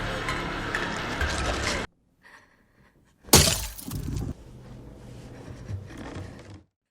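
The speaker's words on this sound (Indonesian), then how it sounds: "toples itu yang hampir pecah dari dalam, seolah-olah makhluk di dalam toples itu ingin keluar dari sana" A glass jar cracking and shattering from the inside, loud bursts of breaking glass with harsh crackling, a short near-silent pause, then a sudden sharp break and lingering rattling debris, with no talking.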